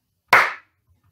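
A single sharp hand clap performed as part of a graphic score in a music lesson, crisp and close, with a quick decaying tail and silence after.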